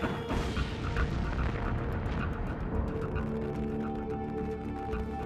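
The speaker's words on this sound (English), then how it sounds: "These ground-shaking fireworks are in the process of obliterating an entire Danish neighborhood." Fireworks at a burning fireworks factory in Kolding, Denmark, go off in a dense, continuous barrage of deep booms and crackling bursts, loud and rumbling.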